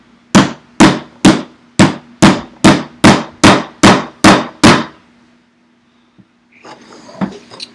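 Ten sharp, evenly spaced hammer blows strike a tool into wood, loud and close, followed by a brief pause and some quieter handling noise.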